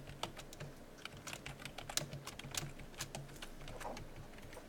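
Rapid, steady typing on a computer keyboard while entering code, close-up clicks and clacks in an irregular rhythm over a low background hum, with no voices.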